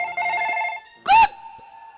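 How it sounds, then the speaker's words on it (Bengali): A phone rings in a quick run of repeated electronic beeps, then a short, louder warbling tone rises and fades, all close and clear with no talk. "কার ফোন বাজছে? কার ফোন বাজছে?"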